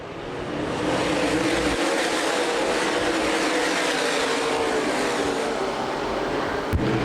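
Modified stock cars at Winchester Speedway thunder bumper to bumper down the backstretch, a dense, broad engine roar that swells in and holds steady, with a sharp click near the end.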